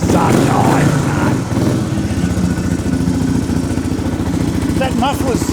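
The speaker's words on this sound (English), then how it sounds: "That muffler's not offensive either. It's good sound." A restored 1990 Suzuki DR650 R Dakar motorcycle idles through its muffler with a steady, close, loud thumping rumble, while people talk over it.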